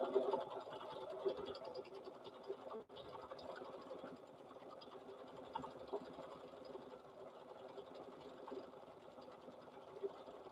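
A sewing machine stitches teddy bear fabric in a quiet, steady mechanical whir and rattle that runs throughout, with a soft click near the middle.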